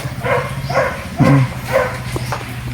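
A dog gives a few short, soft barks and whimpery yips at intervals, fairly close, over a steady low background hum.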